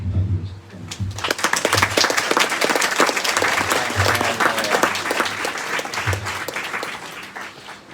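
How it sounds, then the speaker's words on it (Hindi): A church congregation breaks into sustained applause after a brief spoken lead-in, dense clapping filling the room for several seconds at steady loudness while the speaker's voice carries faintly underneath. "आइए हम सब पहले उनके लिए एक ताली बजाएं।"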